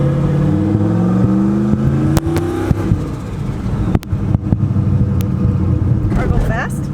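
A turbocharged LS-swapped Mustang accelerates hard, its engine a loud, steady roar with rising and falling revs close by from inside the car, while people talk over it.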